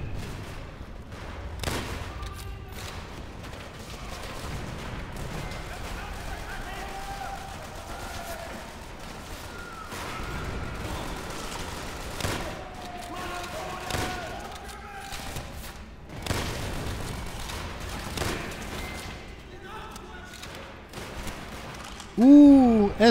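Call of Duty: World at War battle sounds on Xbox 360, scattered gunfire bursts and thuds at varying distances, with a loud blast near the end.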